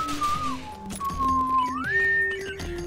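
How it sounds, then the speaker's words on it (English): Someone whistles a wavering melody close up, with held notes sliding between pitches, over faint game background sounds. "Pardon my bad whistling."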